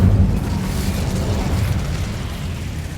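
An Incendio fire spell going off in the video game Hogwarts Legacy, a loud, rumbling burst of flame that starts strongly and then holds as a dense roar for a few seconds.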